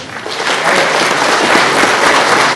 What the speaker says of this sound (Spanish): le damos una bienvenida con un fuerte aplauso